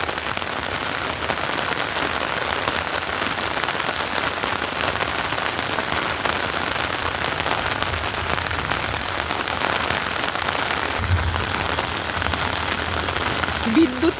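Heavy rain pours steadily onto a rooftop, a loud, unbroken hiss of drops across the whole stretch, with a faint voice and a low rumble briefly underneath.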